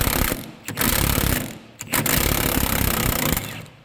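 A Milwaukee power tool loosening bolts while working on a shop, loud buzzing, hammering bursts in three runs of about a second each, separated by brief pauses, close to the microphone.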